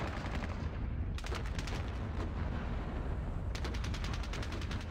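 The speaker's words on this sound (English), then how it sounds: "Let's take this tank and fire at these guys." Tank and battlefield gunfire in a WWII war video game set at Ponyri: a loud, dense barrage of rapid, overlapping shots and booms rolls on without a pause, with no talking.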